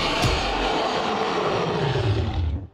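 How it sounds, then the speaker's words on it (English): A biomechanoid enemy in a first-person shooter lets out a single loud, sustained mechanical roar, close and alone, fading out abruptly at the end. "roaring of the biomechanoids"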